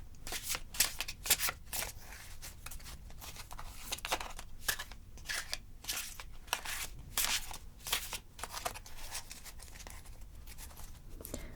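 A deck of tarot cards is shuffled up close in a quiet room, crisp papery riffles and flicks arriving in quick irregular bursts, some louder snaps standing out against soft background hush.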